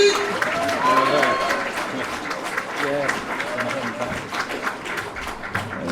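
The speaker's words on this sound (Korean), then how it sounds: "여러분 우리의 윤상현을 힘찬 박수로 맞이해주십시오." At a political gathering in Yeouido, an audience applauds the entrance of a politician. The clapping is fairly loud and sustained beneath someone speaking over a microphone.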